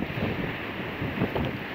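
Strong, high sea waves from a coastal tidal flood (rob) on Indonesia's north Java coast pound against a tall seawall. The surf roars steadily and loudly with wind buffeting, and a few heavier surges swell through the noise.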